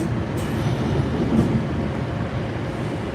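A Boston MBTA Red Line subway train runs near JFK/UMass station with a steady, loud rumble and rail noise, a couple of faint high squeals riding over the constant low roar.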